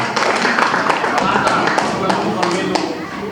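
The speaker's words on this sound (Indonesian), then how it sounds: "Bapak Ibu tepuk tangan dulu dong" Audience at an Indonesian sharing session clapping, a dense, steady patter of many hands close by, with a voice talking over it.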